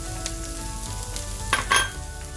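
Broccoli florets sizzle and fry steadily in hot oil in a pan, a continuous crackling hiss with a couple of brief louder spatters near the end and no voices.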